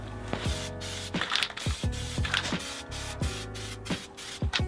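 AutoDip coating is sprayed from an aerosol can onto a car wheel in steady hissing bursts, each cut by short gaps, close and fairly loud over a constant background hum.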